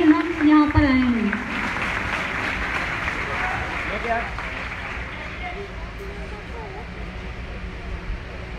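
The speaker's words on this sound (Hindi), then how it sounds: "एक बार सब जोरदार तालियां बजाएंगे हमारे सभी मार्किस के लिए" A crowd applauds at a badge ceremony honouring people who reached Marquis rank: a short voice opens, then dense, steady clapping carries on loud and unbroken.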